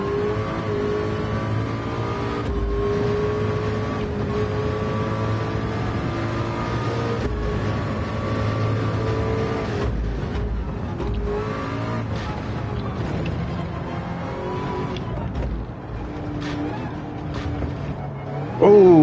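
Race car engine in the Le Mans VR racing game, a loud sustained drone with shifting pitch through gear changes and corners, under a few quiet words from a man.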